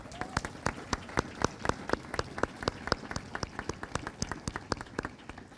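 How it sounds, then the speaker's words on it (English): Clapping at a military garrison change of command ceremony, sharp close hand claps in a quick steady rhythm under a faint hum from the crowd. "Another round of applause, please."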